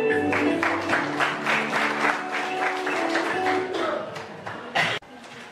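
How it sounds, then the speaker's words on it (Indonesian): Classroom of students clapping together at a teacher's request, a dense steady patter of hands with a sharper burst near the end before it stops, with faint voices underneath. "Oke, tepuk tangan ya buat semuanya."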